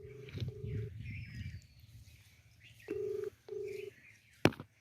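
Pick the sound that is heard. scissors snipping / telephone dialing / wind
telephone dialing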